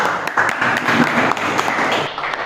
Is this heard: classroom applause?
yes